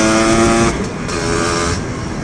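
A 333cc Lambretta CP 'Sledgehammer' scooter engine pulls hard out of a corner, a loud, close, buzzing two-stroke note that rises then eases off briefly before surging again.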